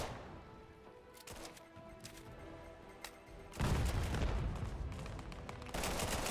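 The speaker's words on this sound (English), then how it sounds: "Okay, lots of gunfire going down" Rapid bursts of gunfire and explosive booms in a game, sparse at first then building into a dense, continuous barrage.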